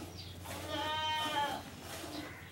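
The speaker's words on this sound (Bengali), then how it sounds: "জার্সি ফ্রিজিয়ান একটি বকনা বাচ্চা" A young Jersey Friesian heifer calf gives a single drawn-out bleating call lasting about a second, close and clear over a low steady background hum.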